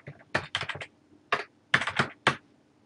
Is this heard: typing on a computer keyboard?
yes